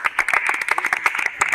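Students applaud a boy who came second with 81% at a Class 10 result party, a dense burst of many hands clapping close by for a moment, with no talk.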